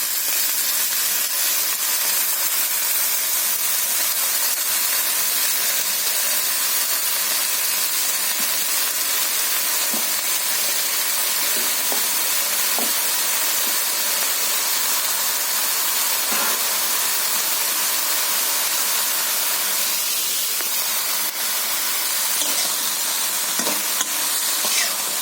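Washed chikni greens hit a hot pan and sizzle and steam in a loud, steady hiss that runs without a break, with a few faint stirring clicks and scrapes near the end.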